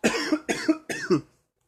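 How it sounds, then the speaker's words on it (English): A person coughs three times in quick succession, close and fairly soft, then silence. "I got a little cough"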